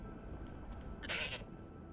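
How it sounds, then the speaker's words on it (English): A goat named Hilda bleats once in a Skyrim game scene, a short mid-pitched cry rising clearly over a steady background hum. "Here is Hilda the Goat"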